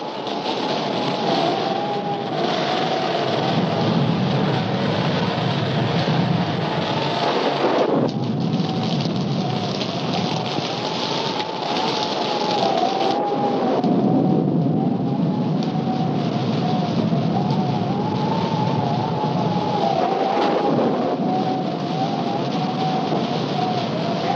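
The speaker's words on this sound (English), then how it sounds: "we'd better get out of here before this storm gets any worse" A heavy thunderstorm roars loud and constant, with rain pouring down and rolling thunder swelling and fading several times across the long stretch.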